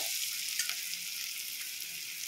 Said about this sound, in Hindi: अब इन मसालों के साथ प्याज को 2 मिनट और भून लेंगे।